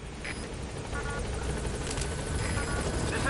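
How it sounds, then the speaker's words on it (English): A support helicopter arrives for a pickup in Metal Gear Solid V: The Phantom Pain, its rotor thump and turbine whine building steadily louder as it approaches, with no talk over it. "Call the helicopter. Pick me up."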